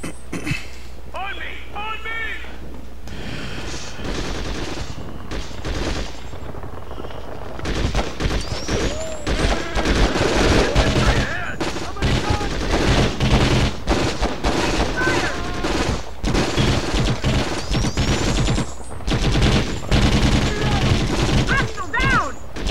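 Video game gunfire in Conflict: Global Terror on PS2, dense bursts of automatic fire and shots rattling continuously, with voices shouting and talking amid the shooting.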